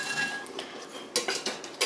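Metal utensils clink against a pot and dishes while ingredients are fished out of kelp broth for Korean bean sprout soup, a few sharp scattered clinks and scrapes close by with no talking.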